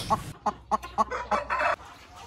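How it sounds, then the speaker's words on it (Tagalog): A laying hen clucks in a series of short, evenly spaced calls that run into a longer, drawn-out cackle at the end, close and clear. "Manok na mangingitlog."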